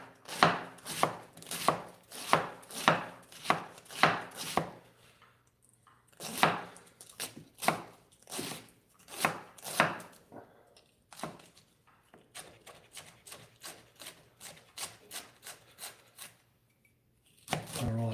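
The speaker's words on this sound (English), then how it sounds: "cut this cabbage nice and fine" A knife chops a quarter of a cabbage finely on a board in quick, steady rhythmic bursts, close and crisp, pausing briefly between runs of strokes.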